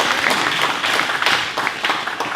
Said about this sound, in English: Let's give a round of applause for United States Congress for doing the right thing